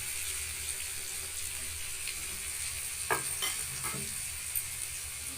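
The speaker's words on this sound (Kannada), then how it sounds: "ಇದೆಲ್ಲ ಚೆನ್ನಾಗಿ ಫ್ರೈ ಆಗುತ್ತೆ" Onions and spices for potato palya fry in a pan with a soft, constant sizzle, broken by a few brief stirring scrapes and clinks near the middle.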